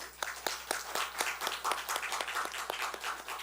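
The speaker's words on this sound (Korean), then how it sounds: "우리 박수로 환영하겠습니다." Church congregation applauding during a Sunday service, a steady wash of many hands clapping with sharp individual claps standing out, filling the room throughout.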